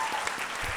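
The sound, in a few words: audience applause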